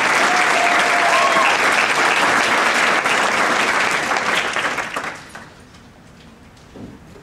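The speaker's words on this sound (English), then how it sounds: "Please give Dr. Robinson a round of applause" An audience at a summer graduation ceremony applauds for Dr. Robinson, loud sustained clapping for about five seconds before it fades to a quiet room.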